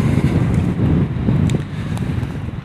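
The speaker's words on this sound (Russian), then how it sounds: "Чудо, ветер поднялся." Wind buffets the microphone outdoors, a steady low rumbling roar that fills the whole stretch with gusty swells and no other clear sound.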